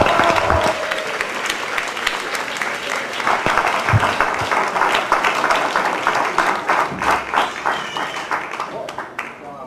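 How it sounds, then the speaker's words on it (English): Wedding guests applaud a speech in a steady round of clapping from a crowd, continuous and fairly close, with voices mixed in underneath. "How about another round of applause for that wonderful speech, you guys?"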